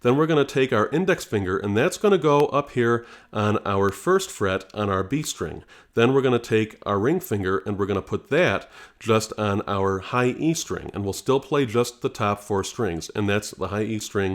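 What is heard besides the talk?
No everyday noises stand out.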